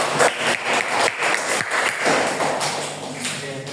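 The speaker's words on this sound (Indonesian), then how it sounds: "kita beri tepuk tangan yang meriah" Classroom applause during a guidance lesson, rhythmic group clapping in quick beats that carries on for a few seconds and tapers toward the end.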